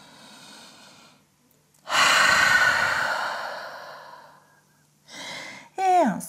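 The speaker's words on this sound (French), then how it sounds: "grande respiration en chien tête en bas" A person breathes deeply while holding a downward dog pose in a gentle yoga class: a soft inhale, then a long, strong exhale through the mouth, followed by another breath and a brief voiced sigh.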